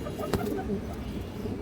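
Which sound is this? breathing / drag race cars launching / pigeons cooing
pigeons cooing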